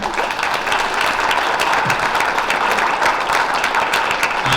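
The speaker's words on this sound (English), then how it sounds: "So a round of applause for Dinesh" Audience applause for a speaker at an executive speaker series in Detroit, a full, steady roomful of clapping, close and even throughout with no talking over it.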